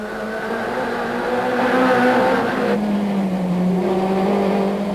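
Onboard a Vauxhall Cavalier touring car racing at Port Elizabeth in 1994, the engine roars loud and steady under load, its pitch climbing and then dropping at a gear change as the car chases down the main straight.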